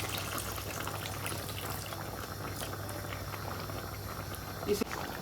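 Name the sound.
thick soup starting to boil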